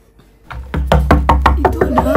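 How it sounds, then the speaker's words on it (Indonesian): Someone knocks on a door in a steady series of about eight loud, close raps, evenly spaced and slightly quickening toward the end. "Kok ada yang ngetuk-ngetuk pintu?"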